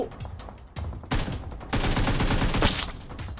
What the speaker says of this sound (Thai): มันเป็นเสียงปืน